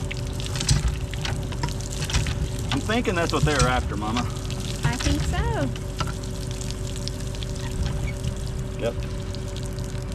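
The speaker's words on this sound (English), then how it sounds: "We want water to come out that." Water gushes steadily from the pipe of a windmill well under repair in Harrah, Oklahoma. The loud, continuous splashing pour runs under people talking nearby.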